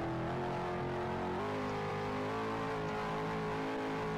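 Car engine droning and revving in the Cars 3 video game, a steady harmonic whine shifting pitch partway through, alone without voices.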